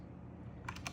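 A few quick keystrokes on a computer keyboard with caps lock on, faint and close, clicking at the end of a quiet moment.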